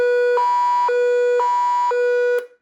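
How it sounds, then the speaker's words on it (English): An Optimus CR307 weather radio sounds its alert test siren, a loud electronic tone that pulses in a steady repeating pattern for over two seconds before cutting off. "It's the 90s alarm clock siren."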